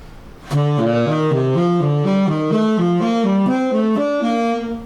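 A solo saxophone plays a quick stepwise run of notes in a rising-and-falling third pattern, clear and close, steady in rhythm with no talking.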